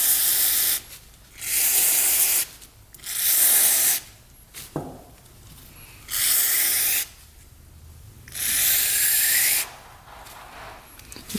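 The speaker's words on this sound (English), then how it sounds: "So we're gonna spray that." Cleaner sprayed onto the wiring of a neglected ATV: five long, loud hissing spray bursts close by, each lasting about a second, with short pauses between them and no talking.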